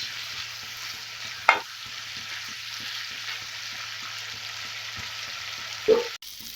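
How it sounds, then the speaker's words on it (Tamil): Snake gourd sizzles softly in a pan while a spoon scrapes through it in a steady rhythm, with two sharper clanks against the pan. "மூடி எடுத்துட்டு நல்லா கிளறி விட்டுக்கலாம்."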